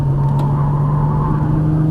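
A Nissan GT-R engine droning loud and close on a race track, a steady sustained hum with a strong low tone and road rush, no speech over it.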